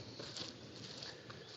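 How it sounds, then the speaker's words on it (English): Light rain falls over a home vegetable garden in May, a faint, steady patter and hiss with no other sounds standing out. "Getting some rain now."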